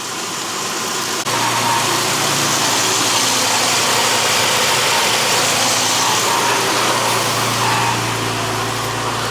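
A Nissan Xterra's 3.3-litre engine idles steadily after fitting a new passenger-side exhaust manifold, a constant close rumble with a low hum and a broad hiss layered above it, running the whole time with no talk.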